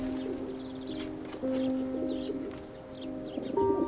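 Pigeons coo softly, with several throaty calls over a low hum of sustained tones and a few faint chirps in the background.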